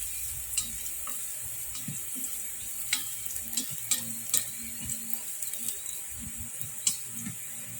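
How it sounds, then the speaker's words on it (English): Food frying and being stirred in a pan: a steady sizzle runs throughout, broken by soft irregular scrapes and clicks of the utensil, heard close with no talking. "stir it up a bit"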